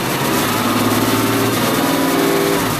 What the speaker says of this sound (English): We're going to elevate the RPM.